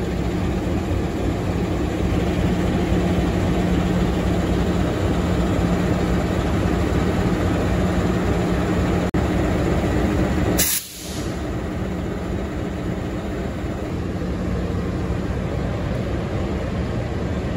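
Steady low rumble of an idling CC 206 diesel locomotive on the Kamandaka train in Indonesia, constant and fairly loud throughout, with a brief sharp burst of noise partway through.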